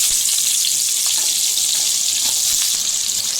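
Onions hit a hot pot for veg pulao, setting off a loud, continuous hissing sizzle that stays steady and close for the whole stretch, with no voices.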